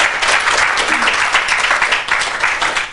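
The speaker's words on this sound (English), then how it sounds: "Can we give a round of applause" Sustained audience applause at a school celebration event, dense steady clapping from a crowd, loud and continuous throughout without pause.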